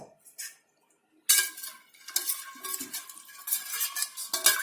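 A spoon scrapes and clinks against a metal cooking pot while masala is stirred into aloo dum biryani, giving close, irregular bursts of metallic clatter after a brief near-silent start.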